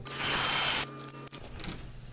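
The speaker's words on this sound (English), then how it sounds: "So I'm gonna turn the board up like we've been doing so I could drill straight down." A power drill whirs steadily for under a second while drilling straight down into a wood board, then stops, leaving a brief knock and quiet room noise.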